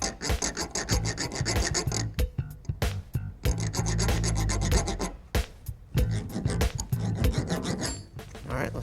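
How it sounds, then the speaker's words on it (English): A hand-turned thread die cuts flat spots off a bolt's threads, making close, loud rasping and scraping strokes in repeated bursts broken by short pauses, with a voice briefly heard. "this bolt just sits right in there, and it'll cut those flat spots off of these threads"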